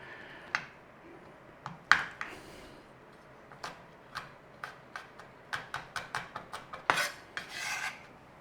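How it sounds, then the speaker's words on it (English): Garlic being mashed and scraped in a kitchen: a run of short, sharp rasping strokes, sparse at first, then quicker and more regular toward the end, close and fairly quiet with no talking. "Garlic, a bit of a mashing."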